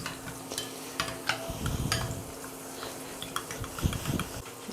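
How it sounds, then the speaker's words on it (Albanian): Egg yolk being stirred into yogurt in a bowl, with repeated scraping and clinking of a utensil against the dish in an irregular rhythm, close and fairly clear, no voices. "Te kosi do hedhim kokrën e vezës dhe do i përzijem mirë me njëra tjetrën."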